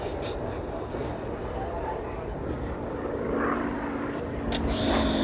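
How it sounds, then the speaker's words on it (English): A Yak 50 propeller aerobatic plane's engine drones steadily at a distance at an air show, its pitch shifting and building slightly as it climbs vertically, with faint voices in the background. "And coming the other way is Dave Boardman, the solo aircraft, going straight up into a launchback"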